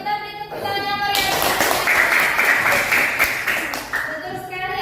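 Children clap together in a classroom, a dense burst of applause lasting a few seconds, with a tonal voice or music sounding before and after it.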